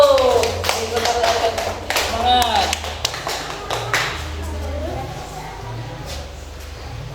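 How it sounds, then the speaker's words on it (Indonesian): A school class clapping hands during a Fiqh lesson, brisk claps from students mixed with a teacher's voice and children's chatter, loud and close, trailing off into talk. "Ayo, tepuk tangan semuanya, ayo."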